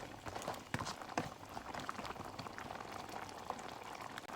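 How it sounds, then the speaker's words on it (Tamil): Crab curry with coconut milk bubbling in a covered pot, a steady close simmering hiss with scattered pops and small bursts, heard alone with no voices. "நல்லா தேங்காய் பால் எல்லாம் நல்லா கொதித்து நல்லா திக்காகிற வரையும் விடுவோம்."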